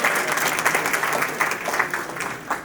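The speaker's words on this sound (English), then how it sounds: "Let's give her another round of applause." A crowd claps steadily in warm, sustained applause, close and even, lasting a few seconds.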